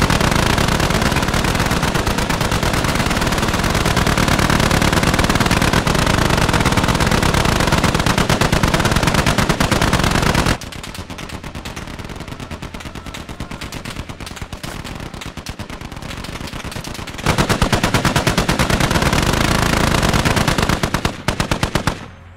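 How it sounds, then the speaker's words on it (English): Heavy .50 caliber machine gun in an armored gunner turret on a Humvee in the Squad war game, firing long dense bursts close and loud, with a quieter gap midway before the fire resumes, and no talking. "sitting in the gunner seat behind an armored 50 cal serves as a bit of a confidence booster"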